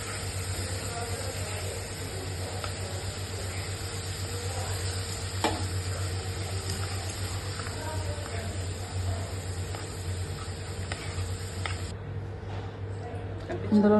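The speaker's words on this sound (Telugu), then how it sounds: "ఆ ఆయిల్లోనే ఇప్పుడు మనం దంచి కొట్టుకున్న వెల్లుల్లిపాయ పేస్ట్ కూడా వేసుకోండి." Crushed garlic paste fries in hot oil with a constant close sizzle and hiss, broken now and then by stirring scrapes. The sizzle carries on under a steady hum, and a voice is heard briefly.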